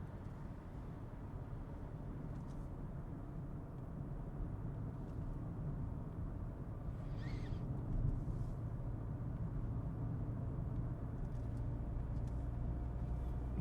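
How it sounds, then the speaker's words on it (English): Car engine and road noise from inside a moving car, a steady low rumble with a slight rise as it rounds a corner and drops into fifth gear, with no talk. "It's a shame my car drops into fifth going around this one corner."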